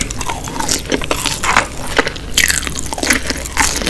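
Crunchy bites into a fried chicken zinger burger, several crisp close-up crunches with chewing between them, loud and with no talking.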